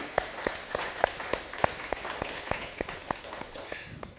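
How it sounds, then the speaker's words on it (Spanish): Sparse, steady clapping in a church service after a call to applaud the Lord, individual sharp claps repeating at a regular pace over a low murmur, moderately near and not a full crowd roar. "Dale un fuerte aplauso al Señor por esto."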